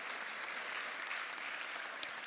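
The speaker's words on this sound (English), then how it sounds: "Let's give them a round of applause for coming here today." Steady applause from a school assembly audience honoring parents and grandparents, a continuous even wash of many hands clapping, fairly distant and soft, with no voices over it.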